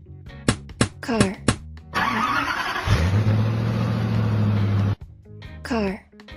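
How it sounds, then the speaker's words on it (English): A car engine starts and revs, then holds a steady, loud drone for about two seconds before cutting off, framed by short bursts of a voice talking before and after. "Car."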